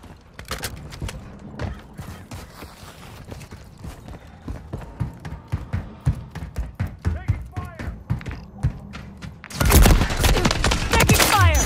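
Gunfire in the multiplayer shooter Modern Warfare III, scattered sharp shots and clattering impacts building up, then a loud dense barrage at the end, with voices calling out over the combat.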